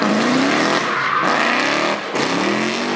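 A Lamborghini Huracan drift car slides at the Goodwood Festival of Speed, tires squealing loudly over a roaring, revving engine, with a brief dip before the screech and engine swell resume close by.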